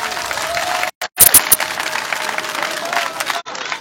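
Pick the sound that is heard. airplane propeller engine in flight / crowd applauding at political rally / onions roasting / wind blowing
crowd applauding at political rally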